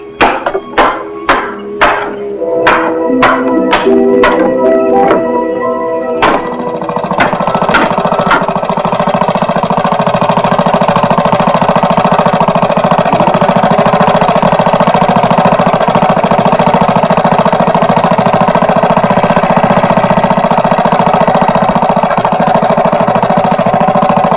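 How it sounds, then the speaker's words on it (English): An engine sputters with several sharp knocks as it starts, then settles into a loud, continuous steady roar that runs throughout. "You gotta get this engine hooked up."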